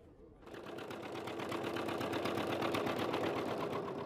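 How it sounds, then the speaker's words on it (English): An old sooty diesel engine, a museum piece kept in service in Africa, starts up and settles into a fast, steady mechanical chugging that stays loud and even, with no voices. "Engineer Lorenz Brelochs is fascinated by this sooty diesel engine"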